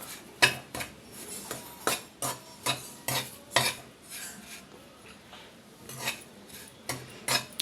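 Sesame seeds slow-roasting in a pan, with rapid repeated scraping and clinking strokes of a metal spoon against the pan over a light dry sizzle, close and rhythmic, no talking.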